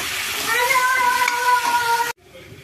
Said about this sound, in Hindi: गैस मीडियम रखेंगे और मीडियम गैस पर हम इसे अच्छी तरह से फ्राई करना है।